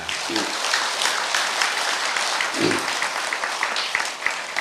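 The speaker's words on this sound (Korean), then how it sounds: "건투를 비는 또 힘을 주는 박수 한번 주시기 바랍니다" Applause from an audience at a Saturday Buddhist temple service marking an anniversary, a continuous crackle of many hands at moderate loudness, with a couple of faint voices underneath.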